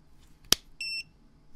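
A sharp click, then a single short high electronic beep from a Gemini telescope auto focuser powering up, clear and close in a quiet room.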